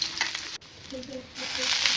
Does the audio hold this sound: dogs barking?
no